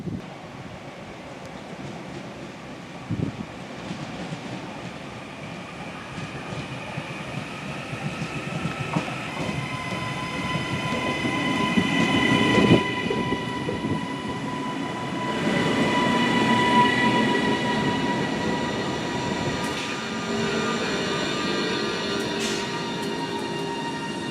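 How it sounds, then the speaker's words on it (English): A Northern train rumbles into a station on the line to Hazel Grove and draws closer, its engine and wheel noise swelling with screeching tonal whines, steady and loud with no voices. "So our train should be arriving now to take us to Hazel Grove"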